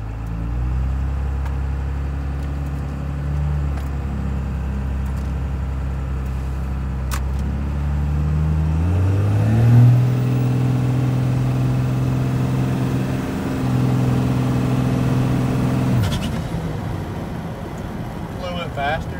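A Cummins diesel truck with its injection pump serviced and timing advanced drives along, its engine drone steady and loud throughout, rising in pitch partway through as it accelerates, then settling and dropping off near the end.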